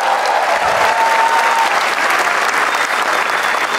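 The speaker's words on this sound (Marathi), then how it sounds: "अरे कडक एका टाळ्या वाजायच्या" An audience at a Marathi stand-up comedy show applauds, a dense, loud wash of clapping that holds steady from start to finish, with no voices over it.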